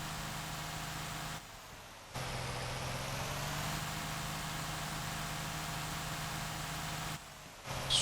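A B-double fuel truck engine in the Motor Town driving game drones at a steady, sustained rev with wheels spinning, its low hum dipping briefly twice before resuming.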